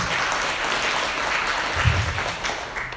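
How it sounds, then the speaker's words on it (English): Steady, dense applause from an audience at a livestreamed talk on mental health, a continuous close wash of clapping that holds at an even level for the whole stretch. "Let's give another round warm of applause for Ms."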